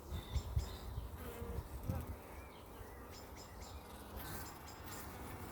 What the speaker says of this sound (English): See, really, really quiet bees,